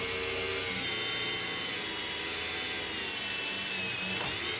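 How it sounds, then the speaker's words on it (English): A steady high-pitched drill whine, drilling a hole without cutting fluid, runs continuously for several seconds, close and fairly loud, with a faint rising tone near the end. "I'm just showing drilling the hole without the"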